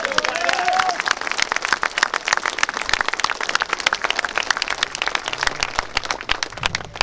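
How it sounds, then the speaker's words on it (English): Outdoor crowd applause at a Britain First street rally in Rotherham town centre, sustained, dense clapping close by that carries on for the whole stretch, with a few voices mixed in. "So I think another round of applause is in due."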